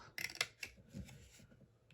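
A few quick snipping cuts of scissors near the start, close by, followed by softer rustling and handling sounds with no speech.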